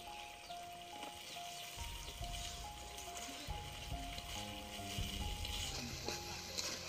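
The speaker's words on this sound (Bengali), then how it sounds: "অল্প একটু জল দিয়ে ভালো করে মশলাটা কষিয়ে নেব।" Masala spices frying in oil with a little water added for an Indian-style okra and pangas fish curry, a faint sizzle with occasional stirring scrapes and a thin tonal hum in the background.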